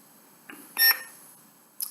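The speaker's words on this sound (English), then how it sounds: "I think the next beep will take us back to green where we started" A toy lightsaber gives one short, bright electronic beep as it switches colour, with faint clicks just before and after in an otherwise quiet room.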